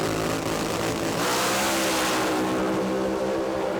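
Two 4,000-horsepower drag racing funny cars rev hard side by side on the start line at Willowbank Raceway, a dense, unbroken and very loud roaring blare that stays up at full revs throughout.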